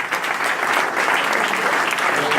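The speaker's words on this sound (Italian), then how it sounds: "E io vi chiedo un grande applauso per Paolo Franco," An indoor audience gives a big round of applause for Paolo Franco, dense, loud and sustained clapping from many hands, filling the room without letup.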